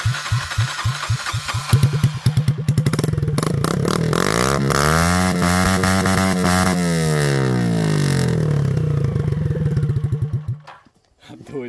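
Loud, raspy motorcycle straight-pipe exhaust blips a few times, then holds a long rev that swells and falls before the engine cuts off abruptly.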